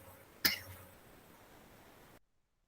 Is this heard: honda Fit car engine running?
no